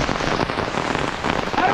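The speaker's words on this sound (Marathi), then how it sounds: "पाऊस" Rain falls steadily on surfaces during monsoon paddy farming in rural Konkan, a dense, close, continuous patter of drops without pause and with no clear speech.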